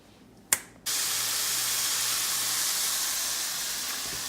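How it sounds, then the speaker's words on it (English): Bacon and onions frying in a pan give a steady, bright sizzle that starts suddenly after a sharp click and holds evenly, close and alone without talk. "once you have your bacon and your onions in the pan, you just fry them up until they get a little crispy"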